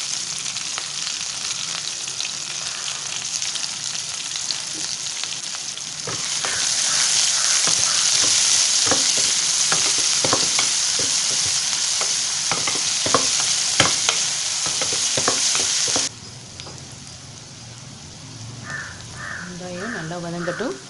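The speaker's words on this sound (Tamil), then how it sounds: "வெங்காயம் நல்லா வதங்கட்டும்." Onions sizzling in a pan while a spatula stirs them in repeated scraping strokes, the frying hiss loudest mid-way before dropping off, with crows cawing in the background near the end.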